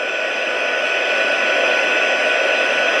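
A heat embossing tool blows a steady, loud hissing whir like a hair dryer while melting embossing powder on cardstock, unbroken and close with no talking.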